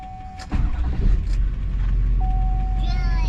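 A Duramax LBZ diesel pickup truck engine cranks and fires up, then settles into a loud, steady low rumble close by, with a brief tone and faint voices early on.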